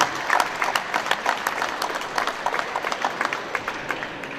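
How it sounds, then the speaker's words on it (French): A crowd applauds at a Citroën press conference during the Epoqu'Auto 2019 show, sustained mid-distance clapping with scattered sharp claps standing out from the steady wash. "On peut applaudir avec toutes ses équipes"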